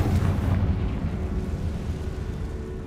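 A booming explosion spell detonates in a Hogwarts Legacy dungeon room, a loud, dense rumbling blast that fills the space and slowly decays, with no voices over it.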